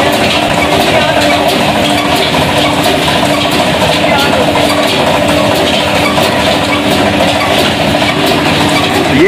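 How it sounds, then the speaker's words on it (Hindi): An old 1978 engine runs steadily, driving a generator that powers a flour mill, giving a loud, continuous mechanical drone with rhythmic knocking throughout. "ये जो आप सामने देख रहे हैं ये जनरेटर है और ये उस इंजन के साथ अटैच है और ये उसके साथ चल रहा है"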